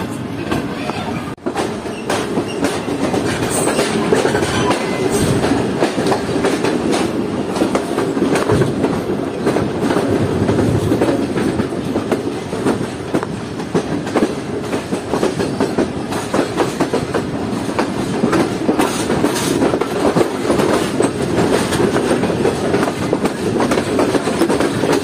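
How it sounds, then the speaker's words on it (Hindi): Allama Iqbal Express passenger train rolling past at close range, a loud steady rumble with rhythmic wheel clatter and occasional squeal running throughout without pause. "तो अल्लामा इकबाल एक्सप्रेस हमारे और करीब आ चुकी है बिल्कुल"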